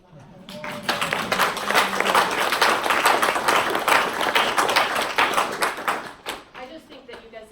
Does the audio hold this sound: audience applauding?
yes